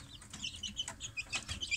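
Chickens cluck in a poultry yard, several short high clucks and chirps overlapping close by at a low level, with no voices.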